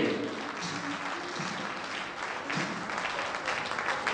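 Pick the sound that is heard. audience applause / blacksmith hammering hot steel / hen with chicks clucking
audience applause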